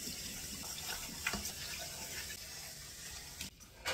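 Tap water runs steadily into a kitchen sink while dishes, glasses and cups are washed in no particular order, a continuous close hiss with a brief clatter near the end.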